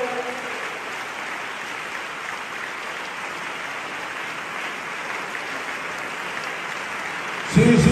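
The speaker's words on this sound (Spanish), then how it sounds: "Sí, sí, ese aplauso mejor para Jesús." Steady applause from a congregation during a church camp sermon fills the space at an even level, with a voice starting to speak over it in the final half second.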